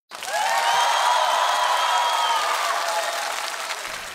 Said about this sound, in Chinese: 再次掌声送给他们